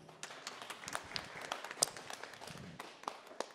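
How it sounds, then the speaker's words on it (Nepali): Audience at a live Nepali dohori song performance breaking into loud applause, a dense steady patter of clapping hands lasting throughout, close and continuous with no talk. "जोरदार ताली"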